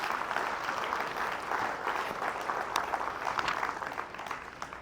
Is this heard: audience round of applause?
yes